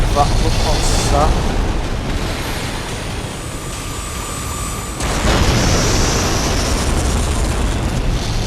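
An enemy opens fire in the mech combat game Armored Core V: heavy booming blasts and a sustained roaring rumble, loud and continuous, with a sharper burst at the start and a renewed surge midway.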